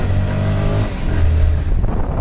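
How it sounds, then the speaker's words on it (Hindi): Busy road traffic with car engines revving and droning close by, loud and steady throughout, with no talking. "यार, यहाँ पे कितनी ट्रैफिक है"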